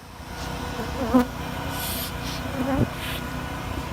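Honeybees from colonies inside a wall hum in a steady, close drone, with the pitch rising and falling as individual bees pass near.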